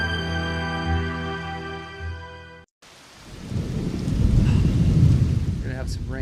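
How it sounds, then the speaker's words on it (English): Steady rain falls with deep rolling thunder in a meditation recording. A sustained humming tone opens it, then after a short gap the rain and low rumble come in, loud and enveloping. "We're gonna have some rain here in the beginning."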